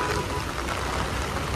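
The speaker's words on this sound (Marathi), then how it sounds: "5:30 ला बघू शकता भरपूर पाऊस आलेला आहे आता मंडीमध्ये." Heavy rain pours down on a busy vegetable market at Pimpalgaon, a dense, even roar of water close by that fills the whole moment without a break.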